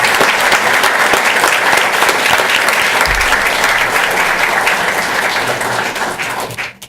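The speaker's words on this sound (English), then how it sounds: "Give them a round of applause." An audience applauds volunteers at a school board of education meeting, a dense, loud and sustained round of clapping that tapers off at the very end.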